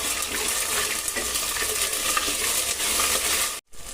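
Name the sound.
ginger garlic paste frying with spices in a pan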